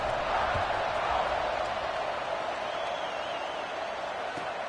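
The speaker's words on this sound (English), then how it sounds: "this crowd is buzzing after that last score" A stadium crowd at a simulated Alabama versus Syracuse college football game keeps up a steady, dense roar and buzz after a score, loud and continuous throughout.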